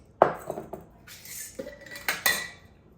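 Eggs and spices being mixed in a bowl for ground beef freezer meals, heard as a few close, sharp clinks and scrapes of a utensil against the bowl in quiet surroundings.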